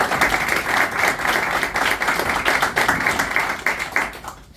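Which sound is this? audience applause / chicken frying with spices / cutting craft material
audience applause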